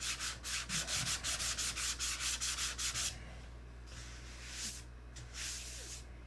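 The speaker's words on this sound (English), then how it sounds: "But as stated, it'll get another sand out." A surface is sanded by hand with rapid, rhythmic back-and-forth strokes that stop halfway through, leaving quieter rubbing and faint hiss alone.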